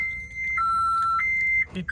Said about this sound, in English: If somebody bangs in the window, opens any of the doors, it's gonna set off the alarm.